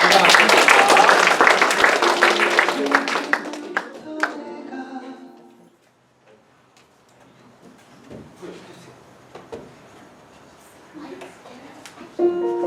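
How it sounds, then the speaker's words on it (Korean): Church audience at a Christmas youth and college service breaks into dense, loud applause that fades out after about four seconds, leaving near-quiet with a few faint scattered knocks and rustles. "자, 우리 박수로, 예."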